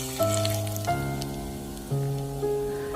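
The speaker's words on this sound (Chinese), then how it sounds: "淋上烧开的热油爆香" Heated oil is poured over minced garlic and toasted sesame for a preserved-egg dish, giving a soft crackling sizzle beneath steady, louder background music with sustained tones.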